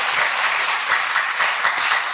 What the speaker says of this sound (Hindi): ताली बजाओ फिर तो